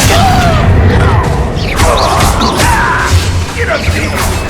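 A Confringo fire spell explodes in the Hogwarts Legacy video game: a loud, booming blast with crashing impact noise, among continuous battle sounds.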